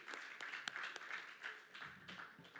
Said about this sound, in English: Round of applause for just a great event.